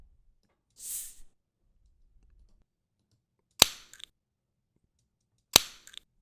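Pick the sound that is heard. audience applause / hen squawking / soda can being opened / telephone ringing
soda can being opened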